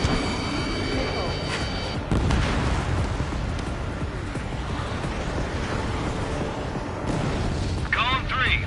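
Missile launches in the Ace Combat video game on PS5: a loud roaring whoosh with booming rumble and jet noise, a sharp onset near the two-second mark, and radio-style voices talking over it.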